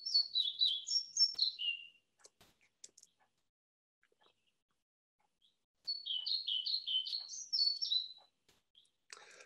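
A ring ouzel sings in Sussex, two separate short phrases of clear, slightly slow, staccato warbling notes, each lasting about two seconds with a quiet gap between them, heard alone and moderately close.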